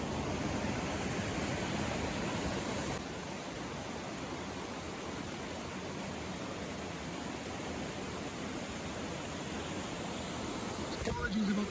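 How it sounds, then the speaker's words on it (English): A loud river tumbling over a small waterfall in North Wales fills the scene with a dense, even roar that stays close and unbroken throughout. "Apologies about the sound, obviously going to be loud with the river"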